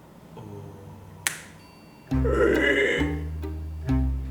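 A hypnotist gives a single sharp finger snap over a quiet room, and a voice then breaks into loud, drawn-out pig-like grunts that imitate a pig.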